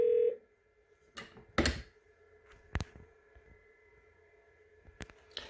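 Yealink T54W desk phone placing a call to an internal extension: a steady tone line runs under a few sharp clicks and thunks of button presses, close by and alone without talk.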